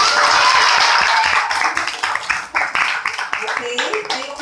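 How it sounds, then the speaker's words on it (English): Audience applause for the winning affirmative side at a Grade 9 school educational debate, a dense wash of clapping that starts loud and thins into scattered claps, with a voice talking over it. "let us now give a big round of applause to our winner, the affirmative side"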